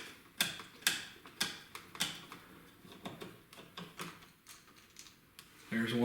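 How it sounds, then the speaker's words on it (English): A Phillips screwdriver works screws out of a Keurig 2.0 coffee maker's plastic housing, giving a series of close, sharp clicks and ratcheting ticks in an uneven rhythm, with a brief rustle near the end. "So you're just going to want to take your Phillips screwdriver,"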